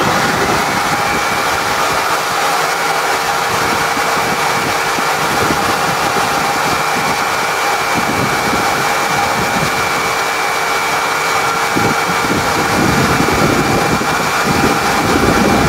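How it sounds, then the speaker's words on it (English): An electric jigsaw runs steadily with a constant high-pitched motor whine and a dense buzzing roar, loud and close, holding unbroken for the whole stretch with no voices. "definitely need the jigsaw on"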